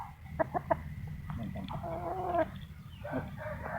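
A young rooster, about eleven months old and shown off in Thailand, gives a few short clucks over a steady background murmur of the farmyard, with the birdlike calls standing out near the middle of the stretch.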